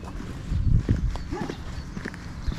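A wild horse walking along a street in Hungary, hooves clip-clopping in an uneven, moderately close rhythm over a background of low outdoor rumble.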